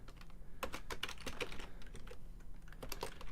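Rapid, steady typing on a computer keyboard while writing PHP code, keys clicking close up in an uneven, continuous patter with no talk.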